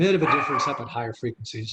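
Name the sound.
dog barking during live presentation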